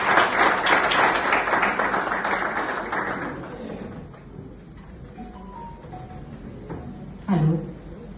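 Audience applause at a Rotary Club gathering in Burhanpur, a dense wash of clapping that fills the first three seconds, then thins and fades out while a voice speaks briefly near the end.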